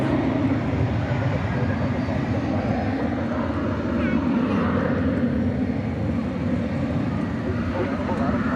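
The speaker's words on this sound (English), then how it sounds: "And off to Omaha goes Flight 2628. That's a 737-800." A Boeing 737-800 takes off at night at DFW Airport with a steady, loud, broadband jet roar and deep rumble that holds without a break, while people seem to talk faintly underneath.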